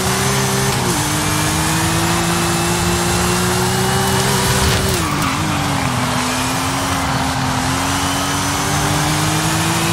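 A Subaru S209 with a body kit, its boxer engine droning steadily in Forza Horizon 5, holds a continuous loud hum that dips and recovers with gear shifts, with faint tire noise underneath.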